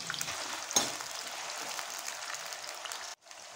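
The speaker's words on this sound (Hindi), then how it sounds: "इसे भी फ्राई कर लेंगे।" Three potatoes fry in a pan with a continuous close hiss and sizzle, broken by one sharp clank and a brief drop out near the end.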